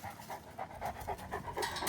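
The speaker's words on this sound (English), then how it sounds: "This is a beautiful dog." A large black dog pants steadily in quick, rhythmic breaths, close by and fairly quiet, with no talking.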